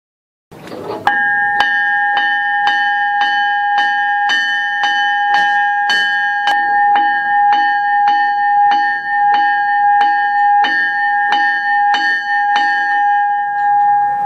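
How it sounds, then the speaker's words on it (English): A large diesel locomotive bell at the National Museum of Transportation, St. Louis, rings in a slow, steady rhythm, each loud clang ringing on and overlapping the next, continuing for a long stretch close by. "And also, you can even ring the locomotive's bell."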